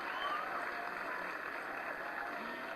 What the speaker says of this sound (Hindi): आप सबकी तालियों की शुभकामनाओं के साथ